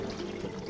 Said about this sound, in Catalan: I llavors el que faríem és llançar la gerra d'aigua al propi cubell